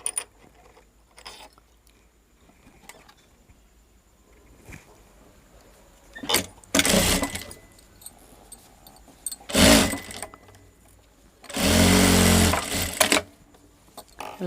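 A sewing machine stitches a folded strip of cloth for a blouse hook panel in short bursts, with one longer run near the end, among quiet handling sounds and soft clicks.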